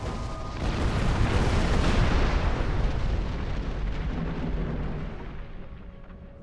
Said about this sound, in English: Torpedoes to the face